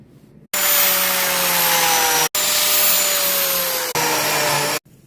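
A Lamello biscuit joiner plunge-cuts slots into African walnut in three loud, steady whirring bursts of about two, one and a half and one second, separated by short gaps, with no talking.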